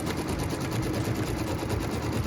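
An embroidery machine stitches quilting lines through a pieced fabric block, giving a steady, continuous mechanical hum and rapid needle chatter at close range with no talking.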